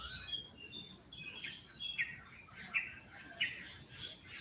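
Faint birds chirp repeatedly at a distance, short high tweets scattered over a soft background hush.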